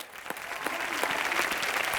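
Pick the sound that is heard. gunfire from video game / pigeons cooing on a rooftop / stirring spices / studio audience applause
studio audience applause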